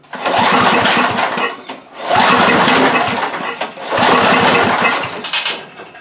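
A Toro Power Shift snow blower engine cranks and fires in three loud, sustained bursts, each roaring for about a second and a half before dropping away, as the engine tries to catch with the choke off.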